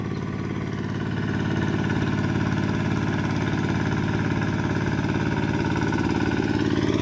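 A small single-cylinder engine on a ride-on walk-behind tractor used for rice farming chugs steadily at a constant idle, close by, with a fast even knocking rhythm and no voices.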